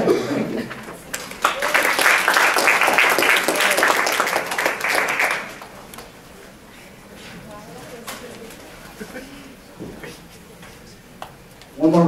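Audience applause at an education-series talk, a dense burst of clapping for several seconds that dies away into quiet room noise with faint voices.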